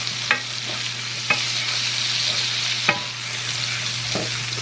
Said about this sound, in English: I'm gonna add some onion, and I'm gonna just saute the onion